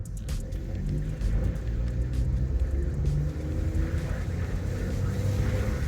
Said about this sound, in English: just so we can hear the engine,